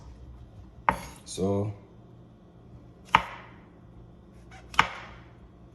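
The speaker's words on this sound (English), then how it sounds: "I have half pound of cremini mushroom, right? And I'm just gonna cut it in some slices, some thin slices." A knife slices through cremini mushrooms on a cutting board in three sharp, separate knocks spaced a couple of seconds apart, with a brief rustling scrape between the first two and quiet room tone throughout.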